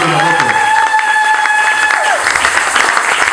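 A church congregation bursts into applause, hands clapping loudly in a dense crowd burst, with voices and cheering ringing over the clapping.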